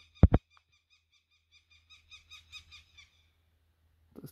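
A large bird calls at an abandoned stone quarry: two sharp loud notes, then a quieter run of about seven or eight hooting, owl-like calls rising and falling, heard clearly against a still background.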